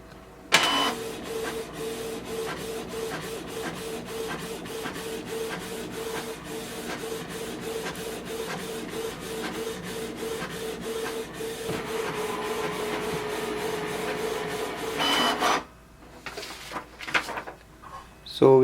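A Canon TS3329 printer prints a color copy with a steady mechanical whir and rapid rhythmic ticking that runs for about fifteen seconds before stopping abruptly, followed by a few faint clicks.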